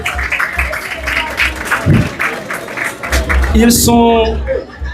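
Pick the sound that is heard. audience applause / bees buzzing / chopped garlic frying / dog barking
audience applause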